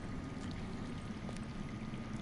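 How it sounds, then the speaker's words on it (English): Underground water flows in a video game, a low, steady rushing and gurgling that stays constant and fairly loud without any talk. "I hear water. From underground."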